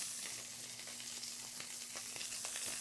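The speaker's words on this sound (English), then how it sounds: "now I'm going to sear off my lobster tails right into the pan, flesh side down where the seasoning is" Spiny lobster tails and shrimp searing flesh side down in a seasoned pan give a steady, soft, close sizzle with fine crackles running throughout.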